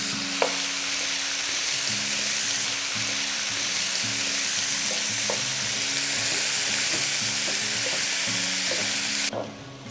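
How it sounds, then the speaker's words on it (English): Lamb mince sizzles and crackles steadily in a hot pan, with occasional scraping stirs and a low background hum throughout. "get all the liquid evaporated off the meat, and we want it to start frying"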